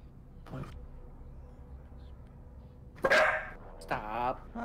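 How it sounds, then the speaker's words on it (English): A dog gives a short bark, then after a quiet gap two louder, rough barks ring out close by, heard alongside speech. "That's your new dog who barks all the time?"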